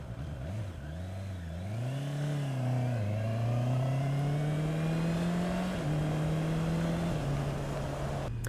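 A 2019 Honda CBR650R four-cylinder motorcycle engine pulls hard through the gears on a test ride, its loud, rising revs climbing steadily with brief dips at each shift, close and continuous with no talk.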